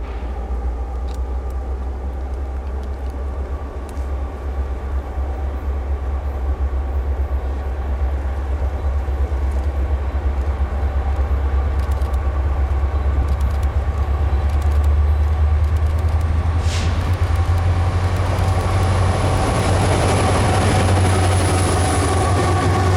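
A Kansas City Southern grain freight train rolls over the curve at Blue Cut, milepost 353, with a steady heavy rumble of wheels and railcars throughout and a rising squeal of wheels on the curve near the end.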